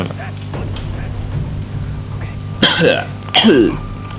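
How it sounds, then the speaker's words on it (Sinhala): After some low background murmuring, a person coughs or clears their throat twice in quick, harsh bursts, close by. "උගුර මොකක් කර වෙලා තියෙන්නේ බං කැස්ස"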